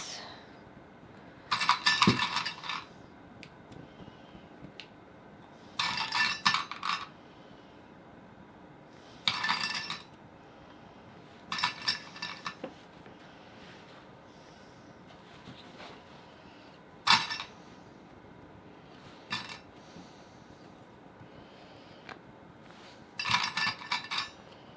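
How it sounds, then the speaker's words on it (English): Sewing clips snap onto a fabric flap one at a time, making about seven sharp, clicky bursts spaced a few seconds apart against a quiet background. "clip the flap together all the way around."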